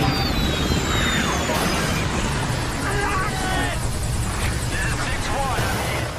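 A Black Hawk helicopter flies overhead with a loud, continuous rotor roar and whine, and a voice talks over it throughout.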